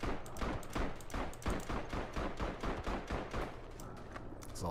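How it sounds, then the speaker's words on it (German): Chauchat machine gun firing continuously in a World War I Verdun video game, a loud, rapid, steady stream of close shots with no pauses throughout. "Dauerfeuer. Kann man von schnellem Einzelschuss beim Shosha nicht so ganz so gut unterscheiden."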